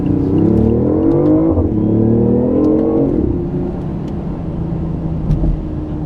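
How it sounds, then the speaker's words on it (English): A 2015 BMW i8's engine revs up loudly, climbing in pitch twice with a brief drop between, then settles into a steady drone. "Mind if I do an acceleration here?"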